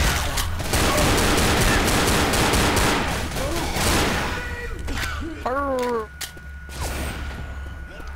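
Gunfire in the Left 4 Dead zombie shooter, rapid crackling shots filling the first half amid game noise, thinning out later, with players talking and shouting over it.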